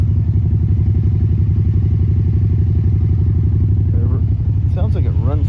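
A 2012 Can-Am Spyder RT-S three-wheel motorcycle engine idles nearby with a steady, thumping chug; a voice briefly speaks over it near the end.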